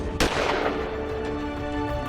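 One short, sharp gunshot sound effect cracks out near the start, then is swallowed by a steady, rumbling train noise that continues underneath.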